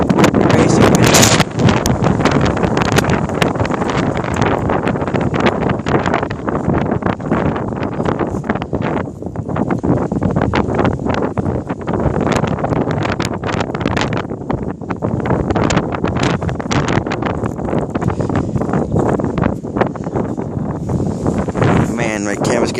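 High winds in Corpus Christi, Texas, blow straight into the microphone. A loud, constant roar and buffeting rumble fill the whole clip without letup, and faint voices are buried under the gusts.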